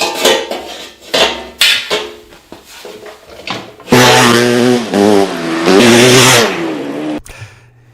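Maico 700 dirt bike engine revving hard on the pipe, loud and close, with several short throttle blips that build into a sustained high-revving roar before cutting off near the end.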